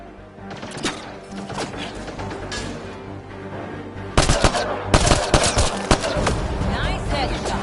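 Gunfire in the video game Mass Effect: Andromeda: rapid bursts of automatic shots and sharp cracks that grow louder and denser in the second half over a busy combat background.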